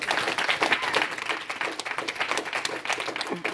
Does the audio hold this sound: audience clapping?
yes